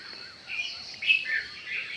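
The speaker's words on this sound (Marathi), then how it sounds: "कलकलाट चिमण्यांचा सुरू आहे" Sparrows chirping on a morning outdoors, a few short, bright tweets in quick succession at moderate distance over quiet background.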